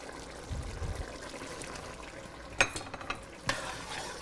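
Fresh tomato sauce goes into a hot pan on a stove set to high, giving a soft low splash followed by quiet sizzling and a couple of sharp scraping clinks of a utensil.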